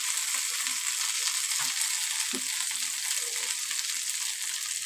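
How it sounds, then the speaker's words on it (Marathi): Bangda mackerel fish frying in a pan makes a constant bright sizzle with a few soft knocks, close up, with no one talking. "हे बघा व्यवस्थित फ्राय झाले."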